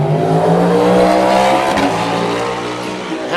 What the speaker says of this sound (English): You can hear the stereo image of the cars.